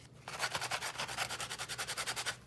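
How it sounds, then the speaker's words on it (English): Medium sanding block rubbed over paper in quick, even back-and-forth strokes, about a dozen rhythmic scratchy passes, close and fairly quiet with no talk. "I'm just going to do a little bit of sanding on here"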